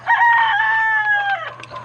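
A farmyard rooster gives one loud, close crow, a single drawn-out call that falls off at the end, followed by a few soft clucks from the chickens nearby.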